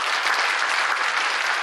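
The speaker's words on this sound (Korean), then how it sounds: "우리 박수 한번 쳐주세요." Church audience clapping together in a sustained, dense burst of applause at steady loudness, with no talking over it.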